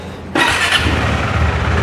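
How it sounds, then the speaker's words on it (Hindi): A KTM 390 Adventure motorcycle fires up suddenly at close range, its exhaust settling straight into a loud, steady, raspy rumble that holds to the end. "एक क्विक आपको मैं एग्जॉस्ट नोट आपको सुनाता हूँ ताकि you can get the complete feel कि ये बाइक कैसे साउंड करती है।"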